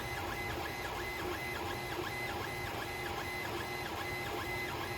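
An Ender 3 3D printer running fast under Klipper firmware, its stepper motors whining in a rapid, repeating pattern of rising and falling tones, loud and continuous with no voices.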